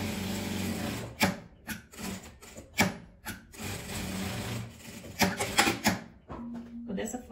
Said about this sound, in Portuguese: Vou passar uma costura na lateral.